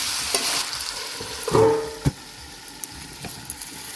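Chicken curry meat with capsicum and potato frying in a pan, stirred with a soft sizzle and scraping utensil strokes, one clear clatter near the middle, moderately close with no talking.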